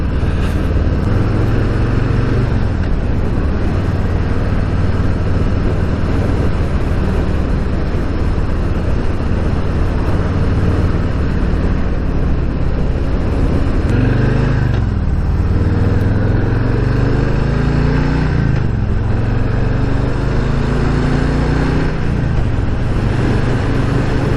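A 2021 Harley-Davidson Street Bob 114 rumbles steadily along a road, its low engine drone loud and continuous, with wind noise and a few revving swells and pitch shifts toward the end.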